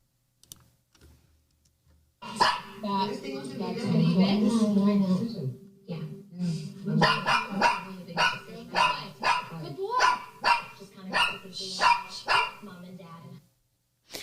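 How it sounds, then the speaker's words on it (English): A dog barks repeatedly and loudly in quick bursts, with the barks running together into an insistent rhythm against some background noise. "you can still hear the barking"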